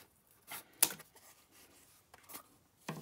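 Scissors make a few quiet, separate snips with short pauses between them, close by in an otherwise hushed room.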